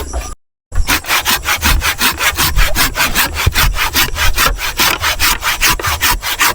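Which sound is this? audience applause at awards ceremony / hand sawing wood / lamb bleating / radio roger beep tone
hand sawing wood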